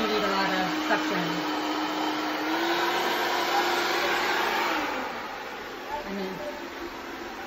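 A 360 C50 robot vacuum mop runs in its quiet mode, giving a steady, moderate whirring hum throughout, with a person speaking briefly over it.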